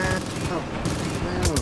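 Machine-gun fire in the video game Far Cry 5 rattles in a dense, continuous fusillade throughout, close and loud, with a voice talking over it.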